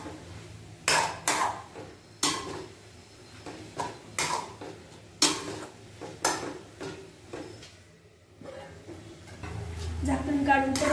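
Carrot halwa is stirred in a pan, giving a series of loud metallic scrapes and knocks of a spoon against the pan at irregular intervals. A faint sizzle rises near the end.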